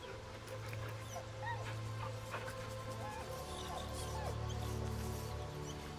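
A dog in the video game Baldur's Gate whimpers with soft, high, wavering whines repeated several times over a constant low background hum.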